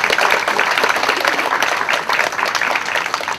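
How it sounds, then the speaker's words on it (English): An audience at a hypnotist's phobia demonstration gives a round of applause, a thick, continuous patter of many hands clapping close and loud throughout, with no talking on top. "Give Sharon a big round of applause."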